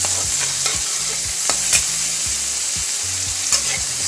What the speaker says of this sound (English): I am putting garlic and onion mixture into it, and try to saute it lightly